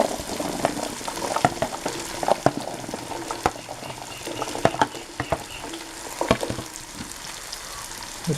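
Okra frying in a masala base gives a steady crackling sizzle, with frequent clicking spoon-and-pan stirring taps scattered throughout, close and moderately loud.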